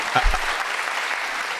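A studio audience claps and cheers in a short, loud burst that quickly fades into a softer, sustained patter of applause.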